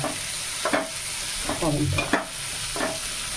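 Tomatoes stirred and sizzling in a hot pan after browned onions, a steady frying hiss with a few scraping stirs of a spoon, close and continuous.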